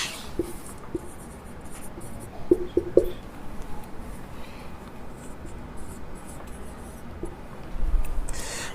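A pen scratches numbers into a notebook in short faint strokes, quiet and close, with a few light taps of the tip against the paper.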